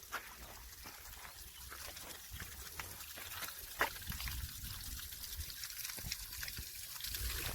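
A mountain stream trickles and flows continuously at about 9,300 ft elevation on the Pacific Crest Trail. The water is faint and distant, with a broadband rush and scattered small splashes, and no one speaks.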